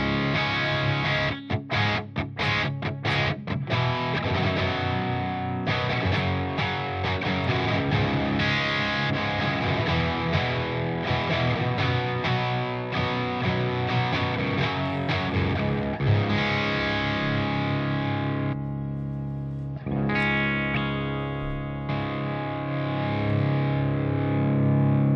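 Electric guitar played through an amp simulator and pedals with heavy distortion: chugging riffs, sustained chords and short stabs with brief pauses, loud and close, with no voices.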